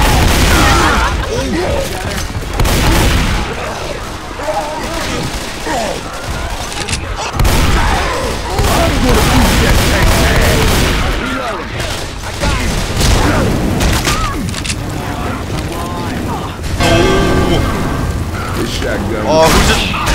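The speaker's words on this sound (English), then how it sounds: "few of the gas tanks got shot at" Loud booming blasts and crackling bursts erupt repeatedly as gas tanks explode after being shot in the zombie shooter Left 4 Dead 2, mixed with rapid gunfire and a voice talking.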